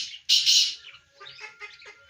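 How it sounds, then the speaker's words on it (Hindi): Australian parrots in a large colony breeding cage give a loud burst of chirps followed by several quicker, softer tweets, close by and with no talking. "ऑस्ट्रेलियन तोते बैठे हुए हैं"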